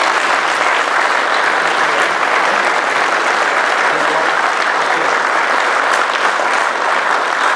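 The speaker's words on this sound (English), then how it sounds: "let's give Chuck Holton a good old Iowa round of applause" An Iowa audience gives a sustained, even round of applause welcoming a speaker to the stage, dense crowd clapping that stays loud and unbroken throughout.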